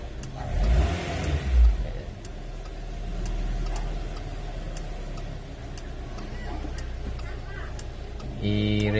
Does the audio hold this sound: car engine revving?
yes